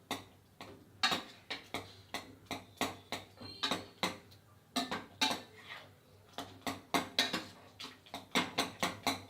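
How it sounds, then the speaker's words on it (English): Cooked pumpkin mashed with a ladle inside a pressure cooker, a close series of rhythmic metallic clacks and scrapes, roughly two per second, with short squelchy pauses between runs and no talking. "with a ladle, mash the pumpkin"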